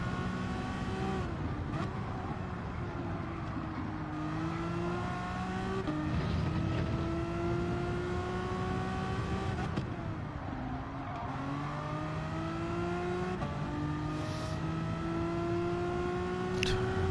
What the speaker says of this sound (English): We can literally push the revs to the limit.